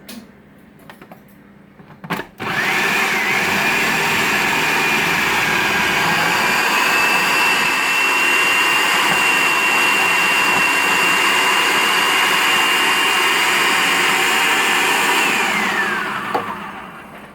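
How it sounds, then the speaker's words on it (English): An electric food grinder chews through vegetables for homemade chow chow cabbage relish, a loud steady whirring drone that starts abruptly, runs for about fourteen seconds, then winds down and stops. "just grind them up, and that's all there is to it"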